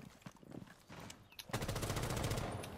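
Rapid automatic gunfire from Rainbow Six Siege ranked play bursts in loud and dense after a quieter stretch of scattered game sounds, a sustained stream of shots carrying to the end.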